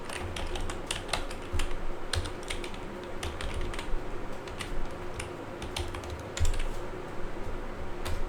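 Steady typing on a computer keyboard while entering plotting code for a direction field, a continuous run of quick key clicks with occasional louder strokes, close and alone.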